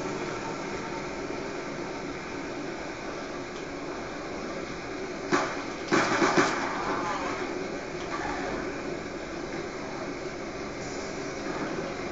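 A bus engine in the video game Black Ops 2 Tranzit, a steady low rumble running throughout with a brief burst of clatter midway, no voices over it.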